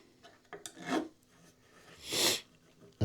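A wooden guitar neck being filed to round over its edge, two slow rasping strokes close to the microphone separated by quiet pauses.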